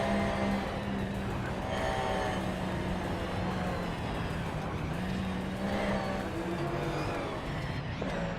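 Engines of 2010 Porsche 911 GT3 Cup race cars drone steadily at the start of a video game race in Shanghai, a continuous loud pack of revving motors with shifting pitch and no pauses.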